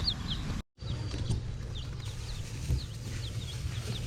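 Chickens newly bought for a backyard flock and about to be vaccinated cluck in short, scattered calls over a steady low background hum, moderately close, with one brief dropout of sound early on.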